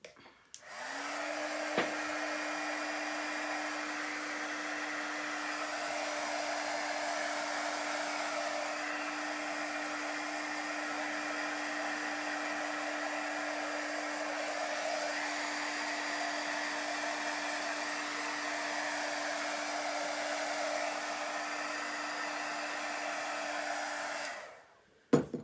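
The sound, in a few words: dryer drying a chalk craft project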